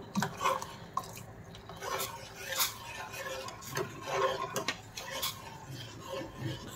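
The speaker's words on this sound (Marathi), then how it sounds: "कस्टर्ड पावडर मिक्स केलेलं हे दूध आपण थोडं थोडं घालून घ्यायचं आहे आणि सतत ढवळत राहायचं आहे।" A pot of boiling milk being stirred as custard-powder milk is added little by little for vanilla ice cream, with steady clinks and scrapes of a spoon against the pan and faint kitchen background.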